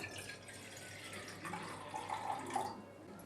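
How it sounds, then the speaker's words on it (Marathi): Water being poured into a steel cooking pot set on a gas stove in a home kitchen, a steady splashing and trickling stream that swells and brightens toward the end, with no talk. "यामध्ये ना पाणीसुद्धा घालूया"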